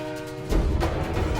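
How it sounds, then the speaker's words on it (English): A train horn from the film Hancock sounds as a steady, tonal blast, then breaks into a loud, rushing rumble of the approaching train. "There's a train coming!"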